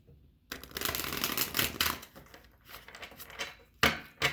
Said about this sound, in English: We're going to shuffle it one more time because it did not shuffle at all.